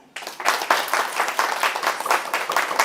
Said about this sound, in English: Simon says clap your hands.